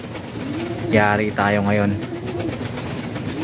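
A pet pigeon cooing up close, a couple of rolling, throaty coos in quick succession, with someone talking over and around them.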